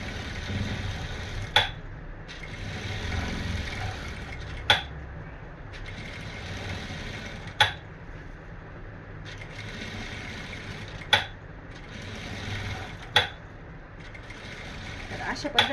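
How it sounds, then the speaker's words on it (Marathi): Sewing machine stitching piping onto a blouse, running as a steady mechanical whir close by, with a few sharp clicks at intervals and someone talking over it. "इथपासून शिलाई द्यायला सुरू करायचं"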